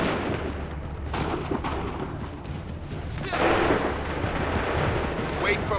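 A musket volley in Assassin's Creed III breaks out as a loud, broad burst of massed gunfire over rumbling battlefield noise, with shouted voices in the background.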